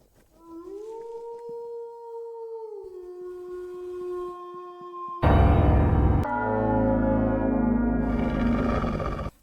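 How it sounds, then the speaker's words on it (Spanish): Monster howl in the horror game Fear and Hunger: long, mournful tonal howls rising and holding, then a sudden loud, harsh roaring burst that continues with a thick growling texture to the end. "se escuchó, digamos que su aullido"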